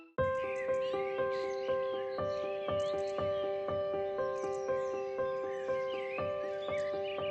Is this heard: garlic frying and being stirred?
no